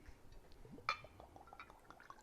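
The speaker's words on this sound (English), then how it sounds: "It's going to glug. It's glugging." White rum glugs from a bottle into a glass for a piña colada, faint wet gurgles with a brief bright clink near the start, quiet and close.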